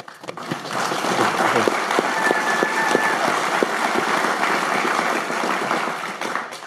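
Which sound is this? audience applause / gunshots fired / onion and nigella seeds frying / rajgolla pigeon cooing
audience applause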